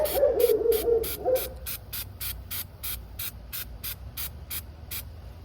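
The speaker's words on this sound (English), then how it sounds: "It says to hold the can upright, just to shake the can really well, spray on the surfaces." A long hiss of aerosol spray starts up, then short rhythmic spray bursts repeat evenly, about a dozen quick puffs in steady succession.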